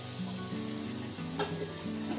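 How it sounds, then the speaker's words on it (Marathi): Potatoes frying in oil in a pan while cooking a hotel-style veg Kolhapuri curry, a steady close sizzle with a faint clink, no talking. "इथे आपले बटाटे फ्राय होतात"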